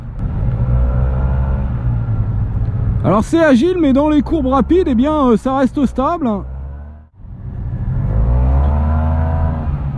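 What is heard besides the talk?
2017 Yamaha T-Max 530 maxi-scooter engine on urban expressway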